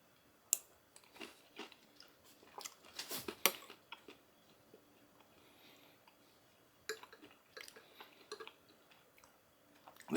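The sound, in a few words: chewing crunchy freeze-dried grilled ham and cheese croutons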